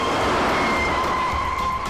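A car engine runs loud and steady as the car is driven off, with a faint tire skid and a high tonal whine over the rumble, and no voices.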